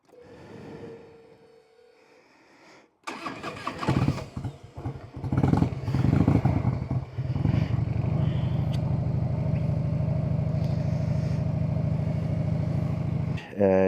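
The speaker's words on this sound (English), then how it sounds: "let's warm up the bike" A 1990s Harley-Davidson Electra Glide motorcycle engine starts and settles into a steady, loud idle as it warms up, close by, after a few seconds of quiet with faint talk.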